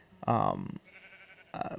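A blocky Minecraft sheep bleats twice, a short wavering baa followed by a second bleat after a pause, loud and close with a quiet voice in between.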